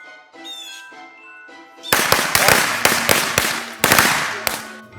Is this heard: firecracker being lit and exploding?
yes